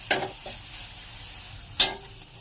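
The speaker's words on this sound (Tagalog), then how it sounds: "Sa simpan, magigisa ako ng sibuyas. Tapos yon cabbage. Pansit canton." Onion, cabbage and pancit canton noodles being sautéed in a pan, a low steady sizzle broken by two sharp scraping stirs of a utensil, close and fairly quiet, no speech.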